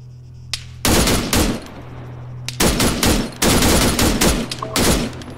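Automatic gunfire from the ARMA 3 military video game: loud, dense bursts of rapid shots in several clustered volleys with short pauses between them, over a low steady background hum.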